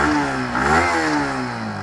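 A Yamaha MT-15 with a carbon-fiber-finish single-barrel exhaust revs close by, its engine note rising and falling in one continuous run with no talk over it.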